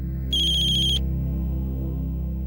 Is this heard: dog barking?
no